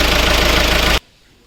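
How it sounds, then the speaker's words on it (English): A Skoda Rapid diesel TDI engine, freshly fitted with a new oil cooler, head gasket and cam valve door packing, runs with a loud, close, rhythmic diesel clatter that cuts off abruptly after about a second, leaving near silence. "right now we have off the engine and we are starting the engine"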